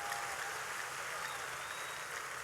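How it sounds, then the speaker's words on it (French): Church congregation applauding and cheering in acclamation, a dense, steady wash of crowd noise with some whistle-like tones that holds at the same level throughout. "Donnez à Jésus la plus grande acclamation."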